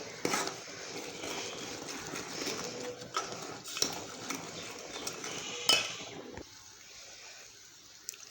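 Semolina ladoo mixture being stirred in a pan for sweet rava ladoo, heard as repeated close scraping and clinks of a spoon against metal, fairly steady for about six seconds before dropping off.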